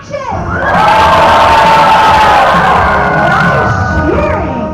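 An audience at an animal actors show, many children among them, bursts into loud cheering, shouting and whooping that swells quickly, holds at full intensity for several seconds, then begins to ease off.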